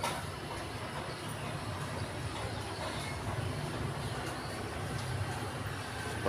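A continuous low rumble with steady mechanical rolling noise, like a train passing at moderate distance in Boyolali, Indonesia, unbroken for the whole stretch.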